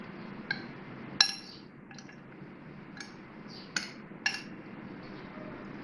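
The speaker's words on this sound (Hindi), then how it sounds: "इसको मैंने मसाले डाल के अच्छे से मिक्स कर लिया।" Spoon clinking against a bowl while paneer is mixed with spices and oil, about six or seven sharp metallic taps at irregular intervals, close and clear over a low hum with no talk.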